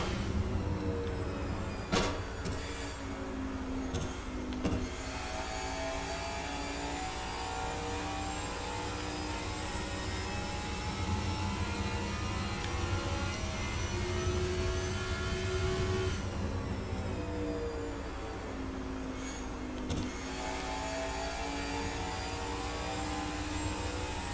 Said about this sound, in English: You can hear him coming in and out of the throttle quite a bit there.